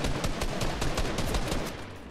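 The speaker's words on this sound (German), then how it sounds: "Hier hinten bei SW sind Schüsse" Rapid bursts of gunfire crackle through a battle royale video game firefight, repeated sharp shots in quick succession, fairly loud and continuous with no voices.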